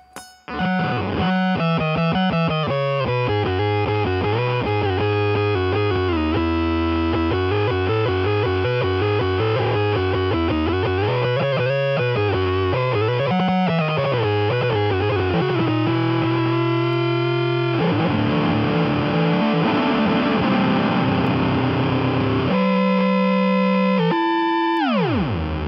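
Electric guitar runs through an analog octaver pedal with reverb, producing a thick, distorted, glitchy tone as sustained notes and sliding phrases ring out continuously, with no talking.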